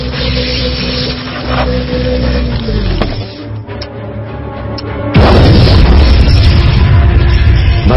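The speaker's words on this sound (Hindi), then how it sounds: "भयंकर विस्फोट हुआ" A loud, deep boom erupts after a rumbling buildup as a lab explodes in the movie Guardians of the Galaxy Vol. 2, followed by a sustained roaring blast that fills the space.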